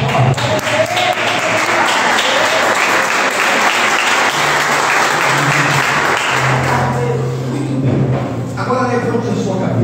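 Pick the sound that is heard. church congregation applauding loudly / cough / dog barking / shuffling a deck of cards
church congregation applauding loudly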